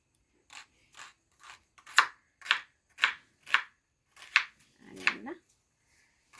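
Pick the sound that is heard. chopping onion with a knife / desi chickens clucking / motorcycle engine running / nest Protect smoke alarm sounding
chopping onion with a knife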